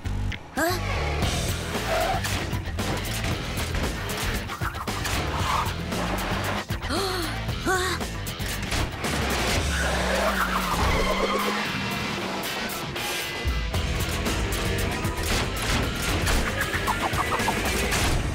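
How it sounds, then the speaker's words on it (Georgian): A car in an animated dinosaur cartoon revs and skids loudly and busily, mixed with cartoon sound effects and clucking fowl noises, with brief voices over parts of it. "აი ეს არის ნამდვილი მანქანა"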